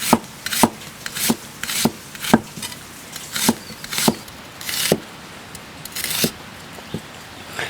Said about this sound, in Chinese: 再搞点这个香菜，不搞折耳根的， 给它切丝